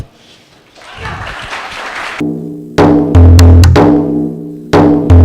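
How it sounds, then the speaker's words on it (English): Audience at an open mic night claps and cheers for about two seconds, a dense burst of applause that quickly gives way to loud electronic music starting up. "Can we have a huge round of applause"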